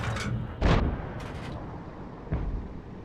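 Artillery gun firing in a tank video game on the Karelia map, likely a Bat.-Châtillon 155 55: a loud booming blast near the start, a fainter second boom a little later, with background game noise.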